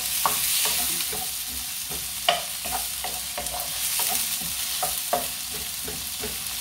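Garlic and onion sautéing in a pan for adobong sitaw, a steady close sizzle with a spoon scraping and stirring at regular intervals.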